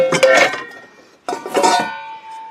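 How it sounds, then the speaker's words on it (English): A large frying pan clattering and scraping in two bursts separated by a short pause, with ringing metallic tones lingering after each handling sound. "Large frying pan,"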